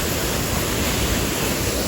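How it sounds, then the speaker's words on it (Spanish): A waterfall at Saltadero de Salamanca in Santiago, where many streams join into one cascade, roars as a dense, steady wash of falling water that stays loud and even throughout with no voices. "esa cascada que usted está viendo ahí es un sinnúmero de cuerpos de agua que lo forman"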